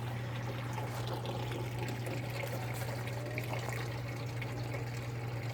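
Water pours steadily into a whiskey barrel planter in a garden, a constant splashing fill with a low hum underneath, close and continuous throughout.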